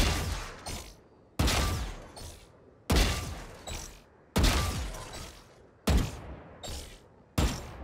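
Gunfire aimed at bots in Valorant on a training range: six sharp shots spaced about a second and a half apart, each one loud and close with a short ringing tail.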